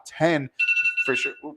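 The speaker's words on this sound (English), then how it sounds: "that's my alarm" A phone alarm rings in short bursts, fairly close and loud, with someone talking over it and around it.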